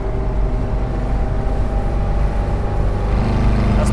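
A 1964 Porsche 356C Cabriolet engine runs at around 4,200 RPM while cruising at 60 miles an hour. It gives a steady, loud, low drone with a continuous rumble, and no voices are heard.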